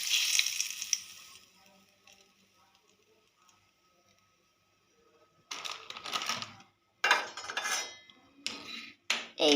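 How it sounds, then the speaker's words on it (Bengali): Hot oil is poured over sugar and salt while making Korean-style ramen noodles, producing a bright hiss that fades within a couple of seconds. After a quiet pause, sharp clattering bursts follow. "এখানে আমি গরম তেলটা দিয়ে দিচ্ছি।"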